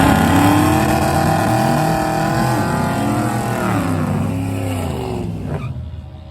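A Chevrolet Camaro races a fast Mustang at a night race, engines roaring loud and close with rising and falling revs as they accelerate, then the sound thins and fades toward the end.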